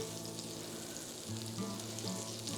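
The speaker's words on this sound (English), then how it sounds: "You can probably hear the butter sizzling." Butter sizzling and frying in a hot pan while preparing roasted leg of lamb with herb butter, a steady close crackle that grows slightly louder partway through, with no talking.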